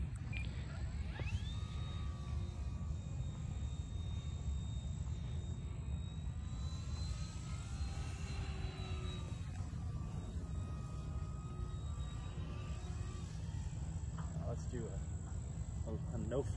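An E-flite Draco 2.0m radio-controlled plane flies a loop, its electric motor a thin whine that rises and falls in pitch as it passes overhead, with outdoor hiss and faint voices beneath.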